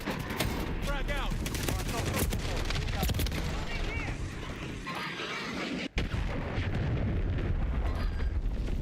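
A frag grenade explodes in Call of Duty Modern Warfare III multiplayer, among dense, continuous gunfire and booming blasts. Brief game voice callouts sound over the constant battlefield noise.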